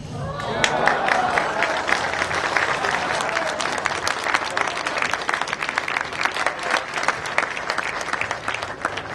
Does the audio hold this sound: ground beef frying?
no